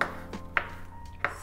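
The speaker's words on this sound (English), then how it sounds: "And I'm gonna take some fresh parsley here. Also slice it up." Knife slicing fresh parsley on a cutting board, three soft, separate chops spaced about half a second apart, close and quiet.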